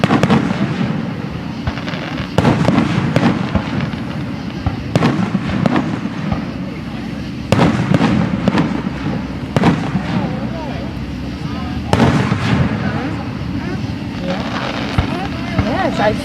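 Fireworks burst in a string of loud booms and crackles every couple of seconds, with people talking between and over the explosions.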